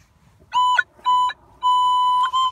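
A metal detector beeps over a target on a relic hunting outing in California, giving four clear electronic tones of uneven length, close and loud, alone without talk.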